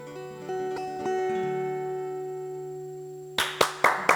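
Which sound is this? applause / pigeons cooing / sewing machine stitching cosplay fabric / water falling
applause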